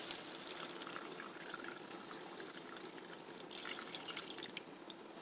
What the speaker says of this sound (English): we're just going to add a little water to it